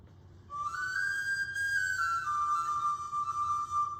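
A single clear whistle note sounds for about three seconds. It rises slightly at first, then slides to a lower pitch and holds over a soft background.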